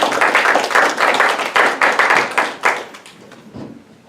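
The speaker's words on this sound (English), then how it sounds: "Give them a round of applause." Audience applause after a panel discussion on ethics and the environment, a dense burst of clapping from a crowd that stays loud for about two and a half seconds, then thins to scattered claps and dies away.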